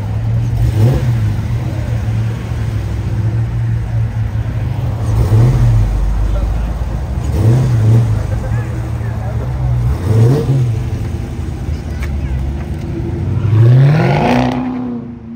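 A Lamborghini Aventador pulls away from a Cars & Coffee meet, its engine blipping and revving in repeated rising bursts, loud and close, with people talking nearby over the roar.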